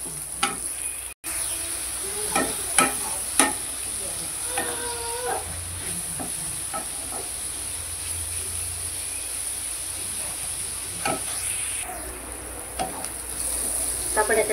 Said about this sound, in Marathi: आता याच्यात टाकूया कांदा. मस्त फ्राय करून घेऊया